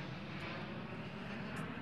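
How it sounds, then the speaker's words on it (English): An airplane passing overhead near a Los Angeles municipal golf course, a steady low engine drone and broad roar, fairly faint and distant, holding constant with no talk. "airplane."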